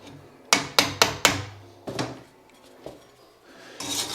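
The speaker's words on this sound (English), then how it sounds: "chisel off" Chisel strikes knock rust and burrs off old plumbing fittings during a bathroom renovation: four sharp, close metallic hits in quick succession, then a few softer scattered knocks and scraping.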